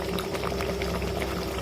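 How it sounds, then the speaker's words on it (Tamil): A pot of dried fish curry (karuvadu kuzhambu) boils vigorously, giving a dense, steady bubbling and gurgling close by with no talk over it. "தகன்னு கொதிக்குது பாருங்கள், சூப்பராக."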